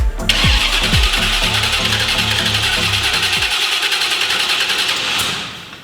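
Starter motor on a Chevrolet C10 pickup truck cranks the engine rapidly and loudly for a few seconds, then spins on with a steady whirring drone before fading out.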